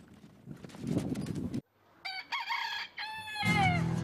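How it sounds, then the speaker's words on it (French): A rooster crows in a zoo in the Manche region of France, a clear drawn-out call heard twice in the middle, with rustling and other animal noise around it. "le premier animal debout est toujours le coq, qui réveille ses congénères un peu plus exotiques"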